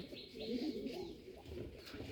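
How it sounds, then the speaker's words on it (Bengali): Soft, steady cooing from a pair of green-necked Bombay pigeons nesting in a loft with eggs, low and continuous across the short stretch with no voices. "এই যে সবুজ গলা কবুতর, অনেক সুন্দর এক জোড়া কবুতর"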